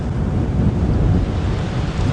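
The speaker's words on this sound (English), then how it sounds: "the wind just started gusting, and it has continued to gust and hasn't stopped" Strong gusting wind on an open safari game drive vehicle buffets the microphone in a steady, loud rush with slight surges, no voices present.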